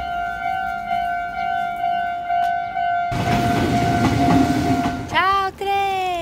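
A train passing in Japan rumbles by with a loud, rising roar, steady horn-like tones sounding throughout and a bright squealing sweep near the end.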